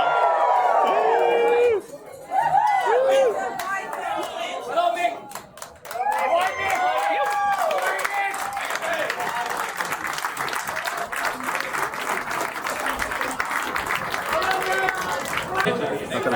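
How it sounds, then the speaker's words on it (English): Wedding guests burst into cheering and applause after a toast, loud crowd clapping and shouts building after a short pause, then sustained clapping with chatter that continues to the end. "as we toast to the Costellos and give a big cheer"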